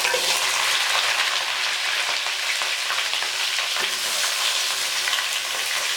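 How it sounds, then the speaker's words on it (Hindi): Apple gourd (tinda) frying in hot oil in a home kitchen makes a loud, continuous sizzle and crackle close up, with no voices. "ऑयल गर्म हो गया, अब हम इसमें टिंडे डाल देते हैं।"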